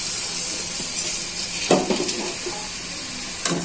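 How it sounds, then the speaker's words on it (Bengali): Sliced onion and prawns land in hot oil and sizzle steadily, with a couple of sharp clinks of a utensil against the pan cutting through the continuous frying hiss. "তেলটা গরম হয়েছে, পেঁয়াজ চিংড়ি দিয়ে দিচ্ছি"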